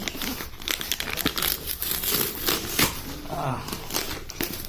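An Amazon parcel's packaging is torn open up close, with loud crinkling and ripping bursts of paper and plastic in quick succession as voices talk over it.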